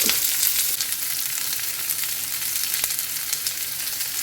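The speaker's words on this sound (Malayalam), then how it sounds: "സവാള അങ്ങനെ കരിയേണ്ട ആവശ്യമില്ല കേട്ടോ ബ്രൗൺ കളറൊന്നും ആവേണ്ട ഇങ്ങനെ നന്നായി വഴറ്റുക" Onion frying in a pan: a loud, continuous, close-up sizzle and crackle hisses without pause, with an occasional faint tap of a spoon against the pan.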